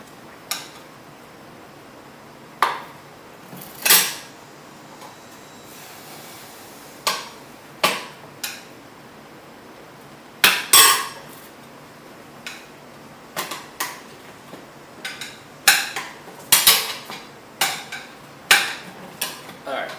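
Metal tire spoons lever a motorcycle front tire off its rim, held down against the wheel spokes, giving scattered sharp metallic clicks, taps and scrapes at an irregular pace, close by with no talking.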